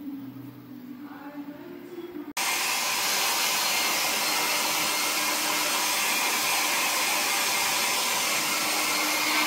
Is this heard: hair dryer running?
yes